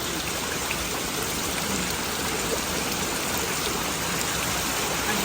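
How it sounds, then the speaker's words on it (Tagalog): Dense, steady roar of heavy rain pouring down, a constant hiss of drops on surfaces with no pauses and no voices. "grabe ang lakas ng ulan"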